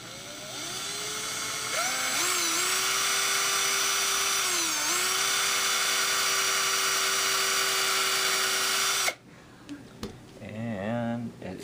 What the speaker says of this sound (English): So that's how you drill the hole for your violin peg.